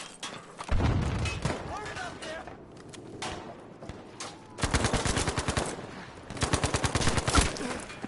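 Rapid bursts of automatic gunfire from a video game shooter, loud and close, with a short burst early and longer sustained strings later, while a player talks over it.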